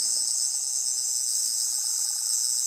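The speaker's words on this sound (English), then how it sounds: "quickly pressing the button will change the Sonic to its red setting, so pressing down on the main activation button results in this" A Doctor Who toy sonic screwdriver on its red setting gives a continuous high-pitched electronic whine, steady and unbroken, heard alone.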